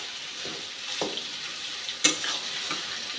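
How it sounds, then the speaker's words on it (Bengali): Apple chutney with turmeric and salt sizzles softly in a pan while a utensil stirs and scrapes through it, with a few sharper clinks against the pan. "আপেলগুলা দিয়ে একটু হলুদ দিয়ে আর নুন দিয়ে নাড়াচাড়া করছি"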